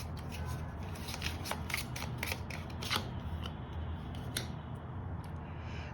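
Tarot cards shuffled and drawn, a steady papery riffle and scrape with crisp snapping flicks over continuous handling noise, close by and alone without speech.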